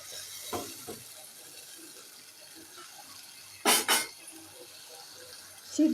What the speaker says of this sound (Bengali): ভালো করে ভাজা হয়ে গেলে এখন দিচ্ছি 1 কাপ পানি